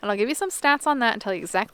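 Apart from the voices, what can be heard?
No everyday noises stand out.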